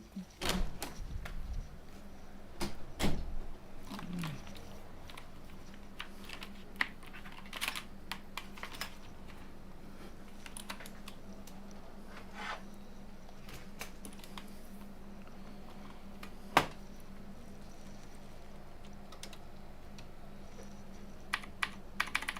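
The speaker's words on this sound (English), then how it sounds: "Time to bring out a real keyboard." Keys clatter on a computer keyboard being tested during a repair session, with irregular bursts of quick taps and pauses, close and moderately loud over a steady low hum.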